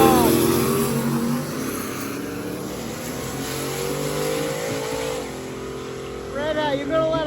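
Drag racing cars, including a Mopar, launch side by side down the strip with loud, continuous engine roar and rising revs that hold steady, then swell again near the end.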